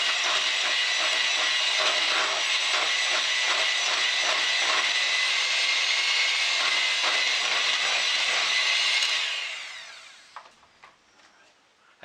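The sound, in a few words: electric mixer with beaters running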